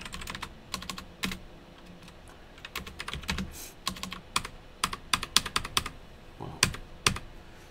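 Rapid bursts of keystrokes on a computer keyboard in a quiet room, clustered in quick irregular runs of clicks with short pauses between them, close and clear with no talking.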